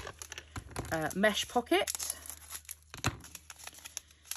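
Plastic bags of diamond painting drills are cut and handled, with close crinkling and rustling in short bursts, a soft voice speaking briefly between the sounds.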